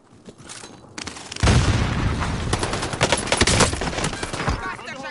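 Dense video-game shooter firefight with rapid automatic bursts and booming shots, loud and close, continuous through most of the stretch with a voice talking over it.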